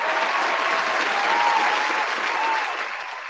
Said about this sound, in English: And we got to play some applause.